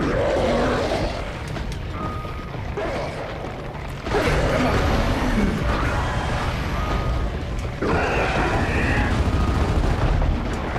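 Boomshot explosive launcher fire in Gears of War: Judgment, with loud heavy blasts and booming impacts over continuous game battle noise, dense and sustained throughout.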